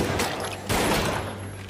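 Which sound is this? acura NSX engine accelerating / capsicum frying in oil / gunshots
gunshots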